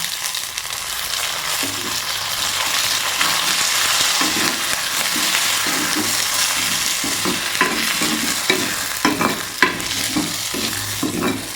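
Green chilli and curry leaves fry in hot oil for a Kerala curd curry, a continuous close sizzle broken by a series of scraping stirs that grow more frequent toward the end, with no voices.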